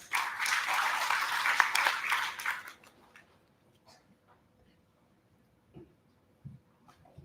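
Conference audience applauding a senior IEEE member as she is welcomed to speak, a dense burst of clapping for about two and a half seconds that stops abruptly, followed by near silence with a few faint scattered sounds.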